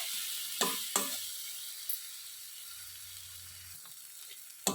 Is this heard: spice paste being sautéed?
yes